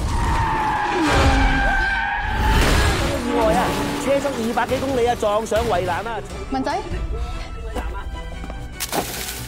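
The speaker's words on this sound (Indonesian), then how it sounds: "Kenji dengan sengaja menabrak dan membuat mobil San Xiong mengalami crash yang sangat fatal" Racing cars slide through a bend in a film scene, tires squealing loudly in long screeches amid engine roar, followed by scattered crunches and skids while a voice talks over the whole stretch.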